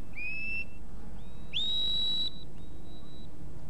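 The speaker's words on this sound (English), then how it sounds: "Whistle command again." A shepherd's whistle command to a sheepdog at a 1980s Welsh sheepdog trial: a few sharp, high, sliding whistle notes, one long and loud, then a shorter fading tone.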